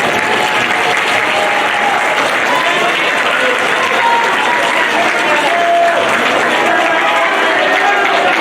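A school band concert audience applauds the middle school tuba section with loud, sustained, dense clapping, a voice faintly mixed in.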